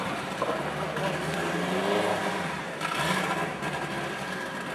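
An all-wheel-drive Eagle Talon TSI with a 2.0-liter turbo engine runs continuously nearby, a loud steady drone with slight rises in pitch as it revs.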